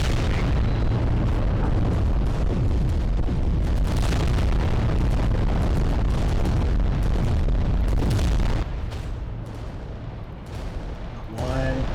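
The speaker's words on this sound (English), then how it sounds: "some of my volcano cannon shots were blocked by the building" Volcano cannon shots in the Adeptus Titanicus wargame, a run of heavy booming blasts and rumbling explosions, loud and dense with overlapping impacts, easing to quieter rumbles near the end.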